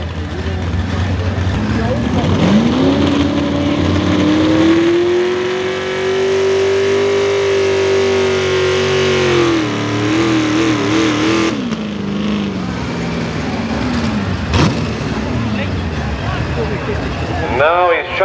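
The Foolish Habit, a pulling truck run by the Simmons Brothers and Sons team, roars loudly at a truck pull, its engine pitch climbing and holding in a long sustained rev before dropping away, while an announcer talks over it.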